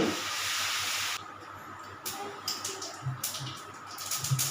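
Mustard seeds sizzling in hot oil in a home kitchen, a steady close hiss that cuts out after a second, followed by faint scattered popping and crackling.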